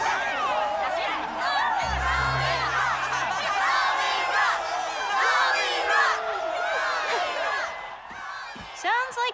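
Cartoon crowd cheering and shouting for a concert, a dense, lively mix of whoops and yells with a low rumble starting partway through, continuous and fairly loud before thinning out near the end.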